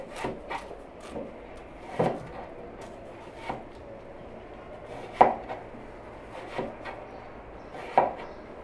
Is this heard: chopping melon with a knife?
yes